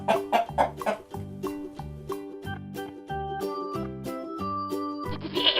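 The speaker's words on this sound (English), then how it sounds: "chick" A chicken clucks in short repeated bursts near the start, then a steady, evenly stepped musical pattern carries on at moderate volume.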